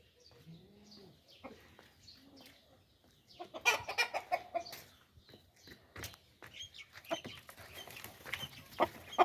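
Hens and chicks in a farmyard coop cluck in short, irregular bursts that grow busier and louder partway through, close by with scattered chirps and soft rustling.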